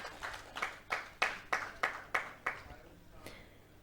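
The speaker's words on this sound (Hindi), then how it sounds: "जोरदार तालियां एवरीबॉडी।" At a panel discussion event, a handful of sharp claps ring out in a quick, even rhythm, about eight distinct strikes, moderately close and fairly quiet, with no voices heard.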